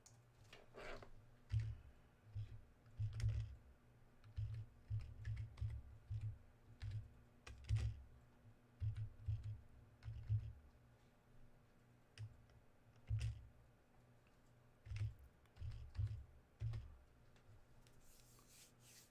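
Clicky computer keys are typed in quick bursts with short pauses between, as if a search is being entered. The keystrokes are close but quiet, over a faint low hum, with no voices.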